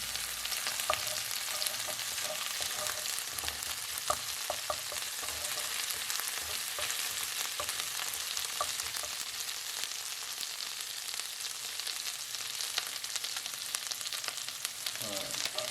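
Steady, close sizzling and crackling of garlic and chilli frying in hot oil, continuous throughout with occasional small pops.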